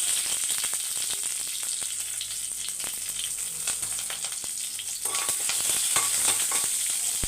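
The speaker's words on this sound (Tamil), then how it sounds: "இப்போ வந்து கடுகு பொரியுது" Mustard seeds spluttering and large curry leaves frying in hot oil with green chillies in a home kitchen, a steady dense sizzle with rapid crackling pops throughout, close and fairly loud, no voices.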